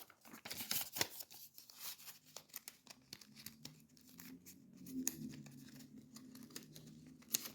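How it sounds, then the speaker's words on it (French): Paper banknotes folded one by one by hand while filling budget envelopes, giving soft crinkling and papery rustles with sharper crisp creases, close and fairly quiet, with no talking. "On va plier chaque billet, comme ça."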